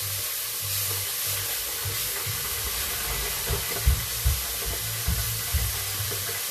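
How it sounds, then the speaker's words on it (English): Leeks frying in a pan for a Thai broth, a steady close sizzle and hiss running throughout, with faint stirring clicks and a low hum underneath. "I can hear the leeks going, hopefully I'm not burning them."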